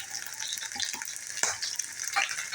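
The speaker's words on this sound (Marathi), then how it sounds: "आता तेल तापलेलं आहे आता आपण जिरं घालून घेऊया ही लसूण घालून घेऊया आणि ही मिरची घालून घेऊया" Cumin seeds, garlic and green chilies crackle and sizzle in hot oil for a spinach dish, a dense, steady frying hiss with small pops, close and without voices.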